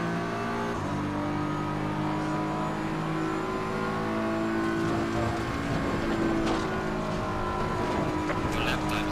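A race car takes Eau Rouge at Spa in Assetto Corsa Competizione, a steady loud engine drone with shifting harmonic pitch as it climbs and changes gear, with someone talking over it.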